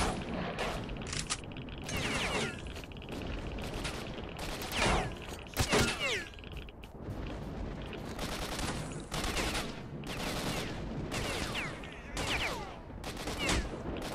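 Gunfire rattles through a firefight in S.T.A.L.K.E.R.: Shadow of Chernobyl's Red Forest, with repeated sharp bursts and single shots cracking close and loud, overlapping in a dense, continuous exchange.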